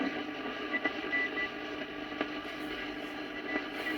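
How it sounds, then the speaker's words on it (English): An Eddystone EC10 radio receiver is tuned to the crowded 40 metre amateur band, giving a steady hiss and crackle with faint whistling carriers and brief static pops. "Let's see what 40 metre amateur band sounds like."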